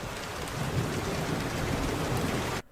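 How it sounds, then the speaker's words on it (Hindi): Steady heavy rain pours down across a valley, a dense continuous hiss of falling drops that cuts off abruptly just before the end. "तब भी घाटी में हमेशा वर्षा होती रहती थी।"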